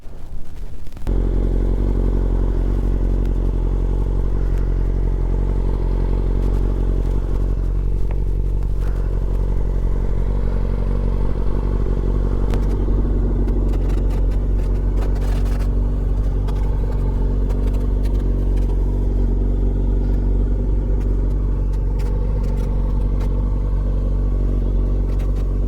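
A motorcycle ridden by the speaker's wife, its engine rumbling steadily and loudly throughout with some clattering, no talk over it.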